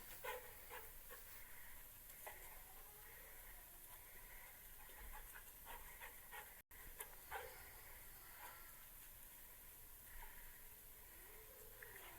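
A bomb detection dog in training makes faint whimpers and occasional short barks over steady hissing background noise, with some distant rumble, continuing for a while without speech.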